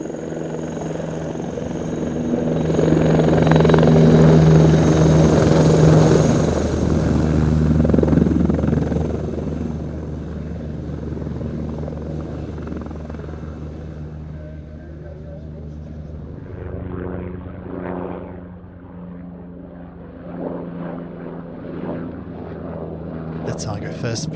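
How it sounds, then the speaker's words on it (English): Eurocopter EC-665 Tiger attack helicopter flying at an airshow, its loud rotor and engine roar swelling then easing off into a steady drone, with an announcer talking over it. "the nation's main battlefield attack helicopter, the"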